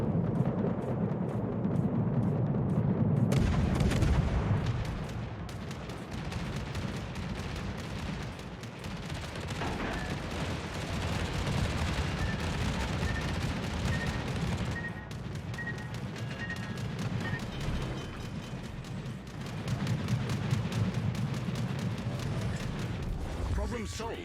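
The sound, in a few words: anti-aircraft gunfire from warships in World of Warships video game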